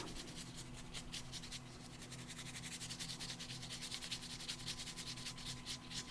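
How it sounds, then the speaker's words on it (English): A sweeper brush swishes over card, clearing off excess embossing powder in quick repeated close scratchy strokes, quiet and steady, with no talk. "I'm going to take my sweeper brush and I'm just going to wipe off all that excess powder that is still on the black"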